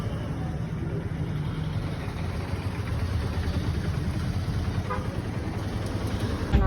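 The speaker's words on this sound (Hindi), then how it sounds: "गाड़ियों का शोर शराबा।" Steady traffic rumble fills the air, with engines droning continuously at moderate volume and no distinct pauses.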